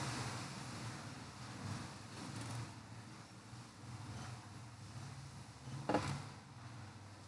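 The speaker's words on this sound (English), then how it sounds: "it's really windy here too" Outdoor wind buffets a microphone, a low, rumbling roar that surges and fades continuously, with a brief louder gust or knock near the end; no one speaks.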